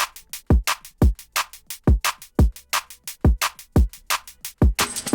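Saturated jump-up drum and bass drums programmed in FL Studio with distortion pound out a fast, punchy break, heavy kicks and sharp snares in a tight repeating pattern, loud and up front.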